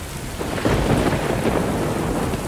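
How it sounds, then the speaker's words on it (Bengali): A heavy downpour roars steadily while a deep crash of thunder rolls through, building in the first second and rumbling on beneath the rain. "বাইরে আর একবার বেশ শব্দ করে বাজ পড়ল।"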